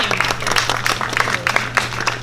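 Applause for a speaker at a job fair, a short burst of steady clapping from an indoor crowd with a low hum beneath, loud and close throughout.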